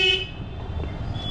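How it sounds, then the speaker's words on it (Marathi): A vehicle horn toots briefly and loudly in a narrow, crowded Banaras lane, fading into a low wash of traffic and street noise. "आणि सगळीकडे नुसतं हॉर्न ना गाड्या"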